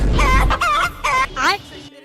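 A cartoon rooster crows in four loud, close, stretched calls, each rising and wavering before a quick silence at the end.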